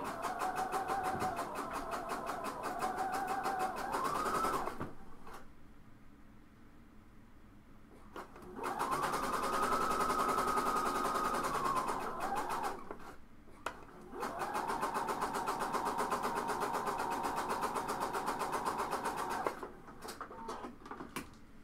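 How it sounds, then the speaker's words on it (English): Sewing machine stitching a blouse's upper sleeve to its under sleeve, a steady motor hum running in three long bursts separated by brief pauses. "so this is sewing we're sewing right now the upper sleeve to the under sleeve."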